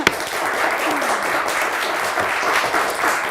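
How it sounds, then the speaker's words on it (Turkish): A studio audience at a Turkish television word-game show, Kelime Oyunu, applauds in a steady, full wash of clapping that holds throughout without a break. "Hadi bir alkış verin"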